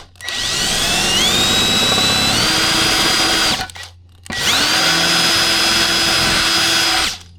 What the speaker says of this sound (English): take probably a 1/4 inch drill bit on a drill and just drill the head of that rivet off